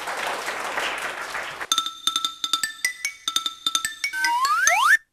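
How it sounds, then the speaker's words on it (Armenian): A studio audience at a quiz show applauds the winning team for about a second and a half. The dense clapping then cuts off abruptly and is replaced by bright, ringing chime tones. "Այնպես որ եւս մեկ անգամ ծափահարում ենք ծովակալներին"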